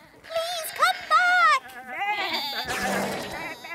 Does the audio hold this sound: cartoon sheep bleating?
yes